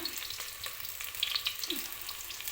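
Onions frying in a pan for cabbage curry, a steady close sizzle with a few light stirring clicks, no talking.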